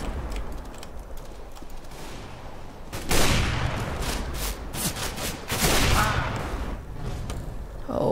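AWP sniper rifle shots in the CS:GO video game crack loudly in sharp bursts amid continuous game noise.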